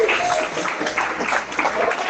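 A church congregation claps during a sermon: brief, close, steady applause with a few voices calling out over it.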